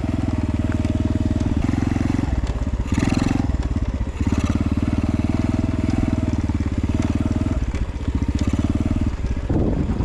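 Small X-Pro Storm 150 DLX dual-sport motorcycle engine running in gear, a loud steady low drone with a strong rhythmic thump throughout, dipping briefly and rising again near the middle and toward the end.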